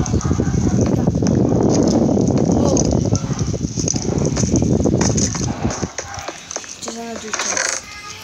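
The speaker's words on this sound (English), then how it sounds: "I got a new horse" Rapid hoof clip-clops patter under a talking voice, then give way to a few brighter clinking game sounds.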